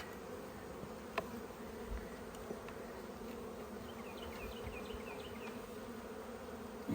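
Honeybees buzz in an opened hive during smoking at an inspection, a faint, steady insect drone with a few soft knocks and handling noises, and no talking.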